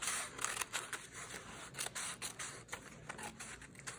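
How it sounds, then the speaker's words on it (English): Scissors snip through thick pages of a cheap hardcover book being altered into a journal, a series of close, crisp cuts and scrapes at an irregular rhythm with no talk. "I will take a pair of scissors and I will just trim this down here"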